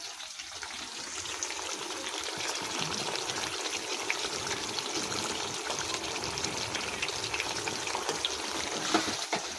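Water poured into a pan of potato curry while it cooks on the stove, a steady broadband trickle and gush lasting several seconds at moderate level, with no talking.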